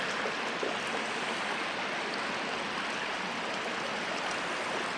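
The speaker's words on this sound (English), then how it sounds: "way over there in the distance, if I can get it, that's water falling down" A waterfall at Tonto Natural Bridge rushes in the distance as a steady, faint, broadband wash of falling water that stays unchanged throughout, with no voices.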